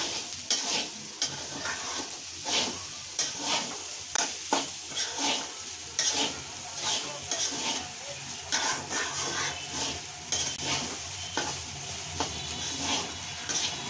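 Broken rice (khud) is stirred in a hot pan as the water cooks off, with a steady sizzle of frying cut by repeated scraping strokes of the spoon against the metal. The sound is close and loud, and no one speaks.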